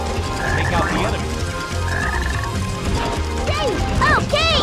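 Sonic Heroes gameplay with a black frog croaking: several short warbling calls near the end, mixed with clicking, ratcheting mechanical game effects and steady background music.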